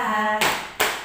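Children and a teacher pat their hands on their thighs during a children's action song in a kindergarten class, two distinct slaps about 0.4 seconds apart, each following a sung note.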